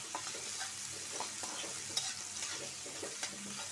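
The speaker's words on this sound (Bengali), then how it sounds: "শুটকি বোনাটাও চুলায় কড়াই হয়ে গেছে, ভাজা ভাজা করতেছি।" Dried fish bhuna is being fried in a wok on a home stove. Faint, steady sizzling runs under soft scraping stirs, with a few light clicks of the utensil against the pan.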